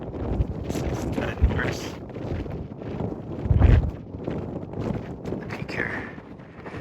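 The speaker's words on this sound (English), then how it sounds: "The wind has died down on this side a little bit." Wind gusts across a mountain ridge on a desert peak hike, a soft, uneven rush buffeting the microphone, with hikers talking over it.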